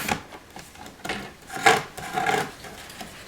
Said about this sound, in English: cut it off of both papers